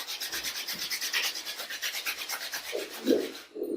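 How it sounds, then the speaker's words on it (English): Two palms rub briskly together in a fast, even back-and-forth rhythm, a close dry swishing friction that stops near the end before a few softer rubs. "Rub your both palms"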